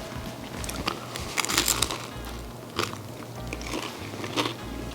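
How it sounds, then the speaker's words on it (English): Crunchy bites into the fried crust of a homemade Detroit style pizza with melted cheese, several close, crisp crackling crunches in irregular rhythm, loud and alone without talk. "Do you hear the crunch? Can you hear the crunch?"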